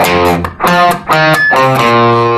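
Distorted electric guitar plays the bridge riff of a song in first position, a loud run of sustained chords and bluesy notes separated by brief gaps, with no voice over it.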